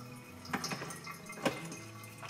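Hot water poured from a kettle over ground Lavazza Rossa coffee in a pour-over brewer, a soft steady trickle with a few faint splashes, quiet and close, with no talking.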